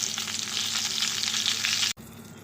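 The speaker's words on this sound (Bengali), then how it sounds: "এখন আমি বেগুনগুলোকে হালকা ভেজে নেব" Eggplant pieces fry lightly in hot oil with turmeric and give off a bright, steady sizzle close up, which cuts off sharply near the end and returns more quietly.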